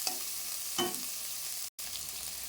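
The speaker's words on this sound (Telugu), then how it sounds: "ఒక ఆనియన్, పచ్చిమిర్చి వేసేద్దాము. ఇది బాగా ఫ్రై అవ్వనక్కర్లేదు" Chopped onion and green chillies sizzle in hot oil in a pan for an alasandalu fry, a steady close hiss with a couple of brief stirring scrapes and a momentary cut in the sound.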